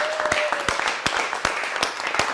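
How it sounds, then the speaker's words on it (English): An audience gives a final round of applause at a live event, with distinct sharp claps standing out over a thinner crowd wash, close and uneven, with a faint tone and some voice underneath. "Give yourselves one last round of applause."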